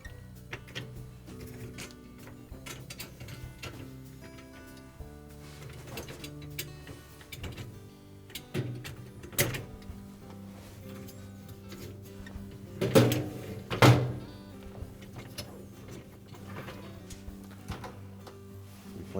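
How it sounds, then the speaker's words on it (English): The upper dish rack of a Kenmore dishwasher slides back into place with rattling plastic-and-wire clatter, building to a couple of sharp knocks near the end, close by and otherwise quiet. "Next, we'll replace the upper dish rack."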